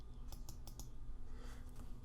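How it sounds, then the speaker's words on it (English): Keyboard shortcut typed on a computer keyboard: several quiet, close key clicks in a loose, uneven run over a low background hum, with no talk. "Hitting Command J on the keyboard, we can copy that shape to its own layer."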